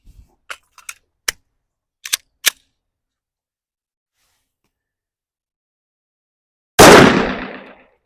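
An M&P 5.7 pistol fires one loud, sharp shot at an outdoor range, its report trailing off briefly, preceded by several small clicks and handling taps.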